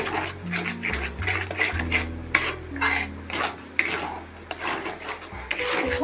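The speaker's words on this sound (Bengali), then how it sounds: "এবার একটু মিশিয়ে নিচ্ছি ভালো করে।" Mashed mankochu (giant taro) paste being mixed with salt and turmeric, a close, repeated scraping and rasping of utensil against bowl in irregular strokes, with soft clatter and background tones underneath.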